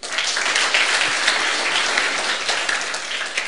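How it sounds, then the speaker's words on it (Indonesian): A church congregation claps at the close of a sermon, a dense, steady wash of applause that fills the space evenly for several seconds with no voices standing out. "Tepuk tangan."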